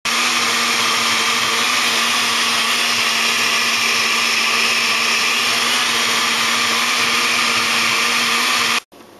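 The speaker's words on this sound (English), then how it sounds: "Let the blender run for as long as you can stand the noise." A blender runs loud and steady with a high motor whine, continuing without pause until it cuts off abruptly near the end.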